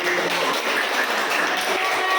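Schoolchildren in a classroom clap for a presenting group, a continuous even rattle of many hands that stays close and steady throughout, with no gaps.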